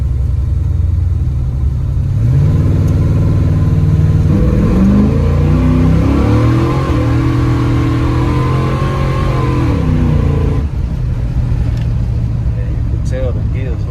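Chevrolet C10 with a 383 small-block V8 accelerating through firm gear shifts, a loud close engine rumble rising in pitch, dropping at each shift and climbing again, heard from inside the cab with someone talking over it.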